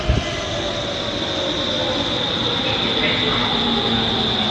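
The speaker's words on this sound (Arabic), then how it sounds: "نشوف القطار، نشوف القطار" A train rumbles steadily past at close range with a constant high metallic whine and dense rolling noise, loud and unbroken throughout.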